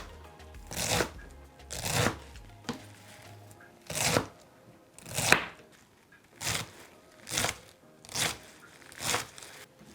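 A knife chops saag greens on a cutting board in about ten sharp, evenly spaced strokes, each a crisp, close chop ringing against the board.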